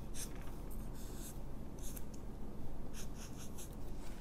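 A pencil or marker draws a neckline line on a paper dress pattern, making soft, intermittent scratchy strokes close up over a faint steady background hum.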